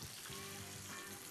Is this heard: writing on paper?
no